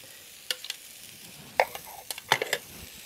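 Onions and ginger garlic paste fry in a pan for a North Indian chicken curry, with a low sizzle under scattered clinks and scrapes of stirring that come in brief clusters.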